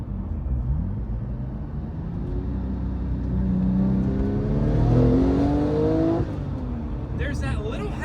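A Porsche 911 Turbo engine pulls hard while driving, its pitch climbing steadily and swelling louder before cutting back sharply near the end, with people talking over it inside the car.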